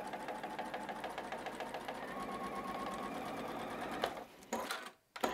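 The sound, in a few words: sewing machine stitching fabric quilt block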